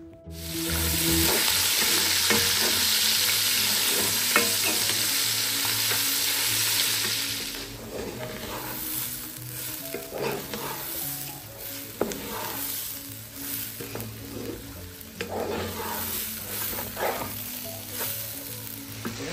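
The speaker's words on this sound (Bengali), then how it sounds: "এখন আমি খিচুড়িটা রান্না করে নেব" Khichuri frying and sizzling in a pan, a loud steady hiss for the first few seconds, then softer sizzling with intermittent stirring scrapes and clinks nearby.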